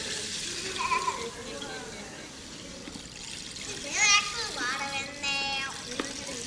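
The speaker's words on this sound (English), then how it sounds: "It's called a rain stick." A rain stick shaken during a Unitarian Universalist bridging ceremony makes a soft, trickling patter like running water, mixed with children's voices and nearby chatter.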